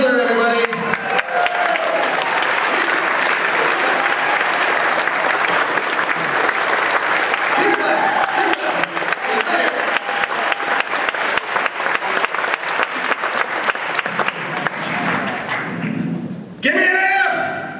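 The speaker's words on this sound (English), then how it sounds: "Give it up for Mr. Kevin Knedler, everybody." Sustained, loud applause and clapping from a university audience greets the Libertarian Party of Ohio chairman at a University of Cincinnati event. It fills the room for about sixteen seconds with crowd voices mixed in, then drops off abruptly near the end.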